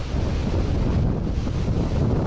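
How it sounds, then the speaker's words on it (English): Heavy gusts from a severe wind storm in Utah roar continuously against the microphone, a dense, loud rush with no speech. "We're still getting pretty heavy gusts."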